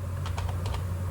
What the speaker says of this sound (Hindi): विंडो आर दबाइए और यहाँ पे टाइप कर दीजिए पावर